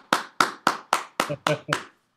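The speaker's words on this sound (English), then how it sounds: "let's give him a round of applause" Seven crisp, evenly spaced hand claps ring out close and loud in a steady rhythm, as a small group applauds a guest at a talk, ending quickly.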